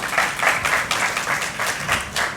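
An audience at a literary festival talk claps for the two speakers, a full round of applause that stays steady and fairly close throughout, with a faint voice beneath it.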